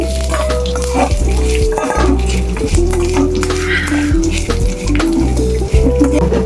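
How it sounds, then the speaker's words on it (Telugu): Potatoes frying in a pan for aloo fry, a steady close sizzle with occasional stirring scrapes, no talking. "తర్వాత ఆలుగడ్డలు వేసుకోవాలండి ఫ్రై చేసి"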